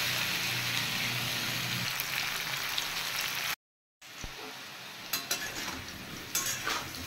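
Taro and potato fry together in a pan with a dense, continuous sizzle, broken by a brief moment of silence, then stirring clinks and scrapes over the crackling oil.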